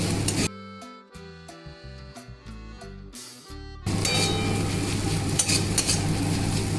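Egg bhujia (scrambled egg) frying in a pan and being stirred: a quieter, tonal stretch gives way to a loud, steady sizzling hiss that fills the second half, with no talk.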